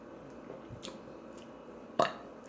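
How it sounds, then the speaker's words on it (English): A single short burp during a mukbang meal of sautéed catfish and brown rice, one sharp burst late in the moment over a quiet room background. "Some people actually like burping."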